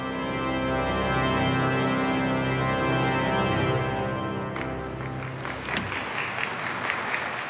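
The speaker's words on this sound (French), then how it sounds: "Daniel est applaudi." An audience bursts into sustained applause for Daniel at the end of mass, a dense roar of clapping that fades out after about four seconds, leaving scattered sharp claps.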